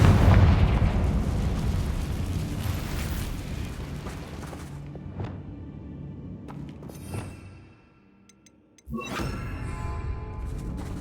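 In Hogwarts Legacy, a Confringo spell explodes with a loud, booming burst that rolls and crackles for several seconds before dying into near silence, then a second sharp blast erupts.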